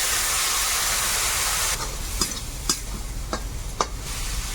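Water poured into a hot pan of spiced curry with taro and potato: a loud broad hiss for nearly two seconds, then settling into a quieter sizzle punctuated by several spatula clacks.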